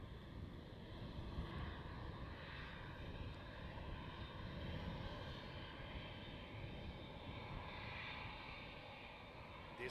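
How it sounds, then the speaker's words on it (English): An Embraer jet taxis at Amsterdam Schiphol Airport at night, its engines giving a steady, broad roaring whine with a constant rumble that holds at an even level throughout, with no speech. "We have an Embraer taxiing behind it."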